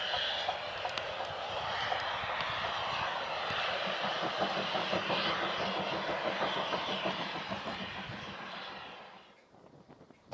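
English Electric Class 37 diesel locomotive, a BR Type 3 built at the Vulcan Foundry, on the Severn Valley Railway, roaring steadily with a loud, broad engine drone and throbbing pulses that fade away near the end.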